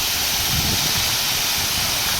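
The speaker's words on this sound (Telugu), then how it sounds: "ఇదే గండాత్రి వాటర్ ఫాల్స్ అంటారు" Gandatri waterfall in forest on the Orissa border, a loud, steady roar of rushing, splashing water that fills the whole moment without a break and with no voices.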